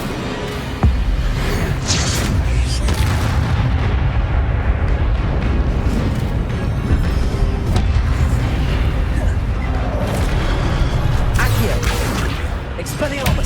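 Incendio fire spells blast repeatedly in the video game Hogwarts Legacy, a sustained barrage of loud booming explosions and crackling bursts filling the whole stretch amid combat noise, with no clear speech.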